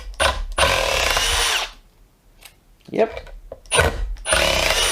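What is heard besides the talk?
DeWalt drill backing a screw out of wood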